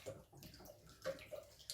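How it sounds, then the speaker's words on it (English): Lye water solution poured slowly into soap oils for a honey and oatmeal soap: a faint, soft liquid trickle with small intermittent splashes, close by and quiet, with no talking. "So you go ahead and pour it in there."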